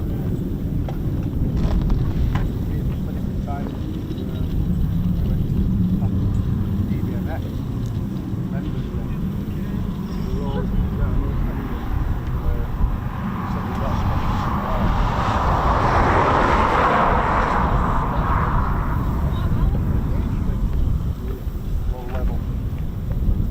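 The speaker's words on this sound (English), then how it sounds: "And it's even windier up here." Strong wind gusting across an exposed raised aircraft servicing platform at an RAF station, a steady roaring buffet on the microphone that swells louder near the end, with a voice speaking over it.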